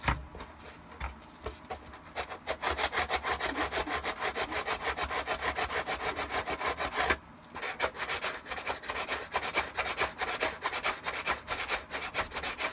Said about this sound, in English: Always sanding from the back.